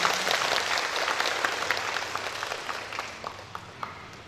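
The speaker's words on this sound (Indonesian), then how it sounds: "Beri tepuk tangan semuanya." An indoor audience gives steady applause at a public program event, the clapping fading gradually with a few last isolated claps near the end.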